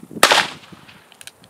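A single sharp report from a .22 Long Rifle fired outdoors at lamellar armor, a close, loud crack with a short decaying tail, followed by faint rustling and small clicks.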